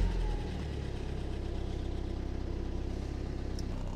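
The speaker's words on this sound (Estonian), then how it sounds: "N47 cold start!" A BMW N47 diesel engine in an E61 idles steadily right after a cold start, a loud, close, even low rumble that runs the whole time with no talking.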